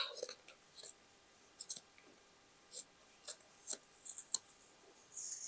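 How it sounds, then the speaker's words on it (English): Scissors cutting the cuff off a knit sweater: a string of sharp snips and crisp blade clicks in irregular bursts, close and fairly quiet, with faint whispered speech in between. "Here I will cut the cuff."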